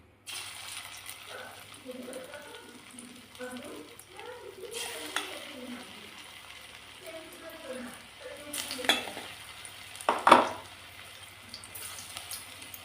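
Balls of flattened rice (chira) pakora batter go into hot oil one at a time and fry with a soft, steady sizzle. Light stirring and a few metal clinks rise above it, all quiet and close.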